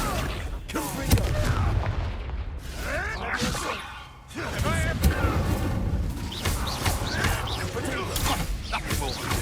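The Confringo blast spell fires in Hogwarts Legacy, a series of heavy booming explosions with whooshing bursts mixed in, and a voice speaks among the blasts.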